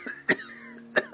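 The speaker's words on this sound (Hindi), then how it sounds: "बूढ़े को फिर खांसी का दौरा पड़ा।" Two harsh, raspy coughs, close and loud, separated by a short pause, with a faint background tone between them.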